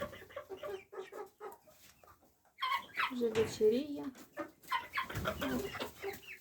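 A hen clucks in short repeated bursts, then a person speaks briefly and more clucking and soft calls follow alongside the talk, among a flock of chickens including a rooster and two-month-old chicks.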